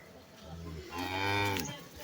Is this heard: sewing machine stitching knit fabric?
no